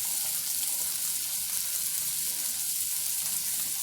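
Water running and pouring steadily into a pot of rehydrated peas for a homemade chicken pot pie, a continuous hiss-like splashing with no talking.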